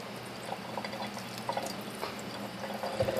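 Water sprays onto a shoe treated with a superhydrophobic coating, giving a continuous close hiss and patter of droplets with irregular splashy bursts throughout.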